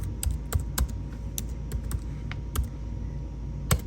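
Close, crisp keystrokes on a computer keyboard arrive in irregular bursts of clicks with short pauses between words, and no voice is heard.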